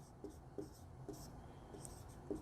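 A pen scratches across paper while linear equations are written out by hand, producing faint, close strokes that come in a steady rhythm of short scrapes under quiet room tone.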